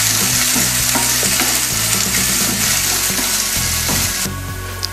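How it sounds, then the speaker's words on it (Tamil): Shallots and garlic frying in a pan for a Tamil dry fish gravy, a loud steady sizzle with repeated stirring scrapes throughout, the hiss dropping slightly near the end. "இப்போ சின்ன வெங்காயம் பூண்டு சேர்த்துக்கலாம். இதை கொஞ்ச நேரம் நல்லா செவக்க வாட்டிக்கோங்க."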